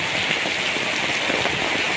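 Steady, dense hiss of rain falling and pattering on surfaces, broad and continuous with no pauses, close and fairly loud, with no voices.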